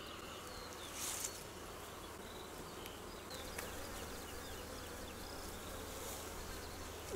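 Honey bees buzz steadily throughout a hive inspection while brood frames are examined in queen-rearing nurse colonies. The drone is dense, continuous and close, with no talking.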